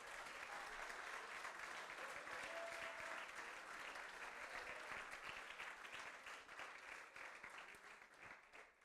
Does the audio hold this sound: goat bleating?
no